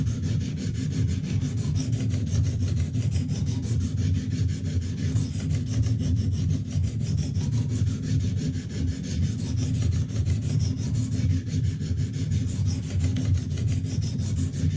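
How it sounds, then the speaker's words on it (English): A knife blade being sharpened with a Lansky sharpener stone, steady repetitive rasping strokes of stone over steel, close and continuous for the whole stretch with no talking. "We're just trying to grind over that first side so we feel it roll on the opposite edge."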